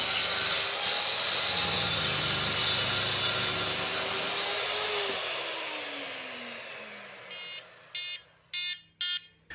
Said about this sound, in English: After using a track saw to trim the ends and back